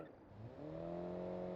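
A 1950s-style car engine revs up from a low rumble into a rising, steady drone, close and sustained with no one speaking.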